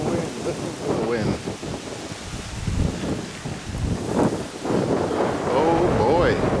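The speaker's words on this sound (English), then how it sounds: "Listen to the wind." Strong gusting wind ahead of a storm, loud buffeting roar hitting the microphone in surges throughout, with a person's voice faintly mixed in at times.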